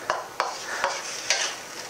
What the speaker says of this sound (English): We're going to keep our onions moving just until they start to become translucent.